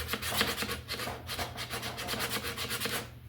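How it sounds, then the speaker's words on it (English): Sanding pad from an automotive polishing kit rubbing across an engine valve cover, a steady close raspy scrubbing in quick repeated strokes, with no talking. "Let's sand this valve cover with this one pad"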